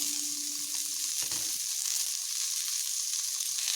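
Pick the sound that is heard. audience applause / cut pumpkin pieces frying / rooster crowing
cut pumpkin pieces frying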